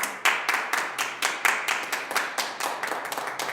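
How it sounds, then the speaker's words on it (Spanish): Rhythmic clapping from a church congregation, steady and fairly loud, beating in time throughout without any talking. "Denle un aplauso al Señor."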